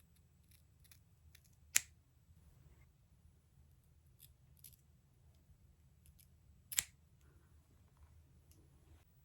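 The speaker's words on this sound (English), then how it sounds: "I'm gonna cut up to my eyebrows. I'm gonna cut diagonally." Scissors snip through wig lace in a quiet room, with two sharp, distinct cuts separated by several seconds and faint small clicks and rustles between them.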